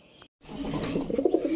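Pigeons in a pigeon shop give a low, steady cooing after a brief silent gap, the murmur of several birds fairly close and continuous, rising slightly toward the end.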